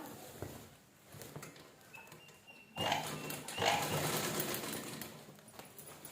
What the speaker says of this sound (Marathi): जोडताना मोठ्या शिलाईवर जोडलं तरी चालेल, मी तर मोठी शिलाई करणार आहे